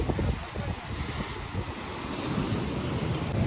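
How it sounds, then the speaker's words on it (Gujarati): Sea waves surge at the meeting of the Gomti river and the Arabian Sea in Dwarka, a low churning wash of surf mixed with heavy wind buffeting on the microphone, loud and continuous. "અહીંયા તમે મોજા જોશો ને તમને એવું લાગશે આમ ધોળું ધોળું આવે સીધું પાણી"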